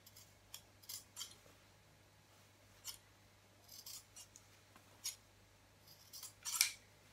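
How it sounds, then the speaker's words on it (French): Scissors snip through fabric while a face mask is being made, a handful of quiet, separate cuts spaced over several seconds in a silent room, the last one slightly louder. "vous viendrez couper les quatre côtés comme ceci"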